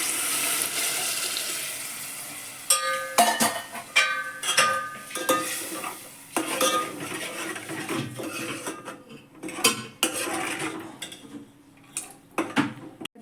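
Boiled pigeon peas and green peas are poured with their water into a pan, making splashing and watery pouring mixed with clanking spoon-and-pan stirring. The sounds are close but quiet, with no voices.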